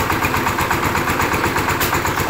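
A rented engine-driven pump runs at a farm site with coffee gardens, a loud steady mechanical chugging with a fast regular pulse and no voices.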